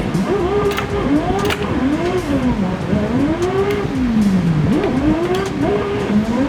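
An Enjuku Racing Nissan S13 in a racing simulator game revs hard through repeated rising and falling engine sweeps as gears change, with tire squeal and a loud, continuous, close engine tone.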